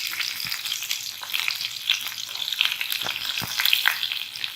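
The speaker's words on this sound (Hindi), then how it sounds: "थोड़ा सा पहले मैं इसको फ्राई कर लूँ लहसुन और मिर्च को" Chilies and garlic fry in hot ghee in a pan, giving a steady, close sizzle with small crackles and pops throughout, without any talking.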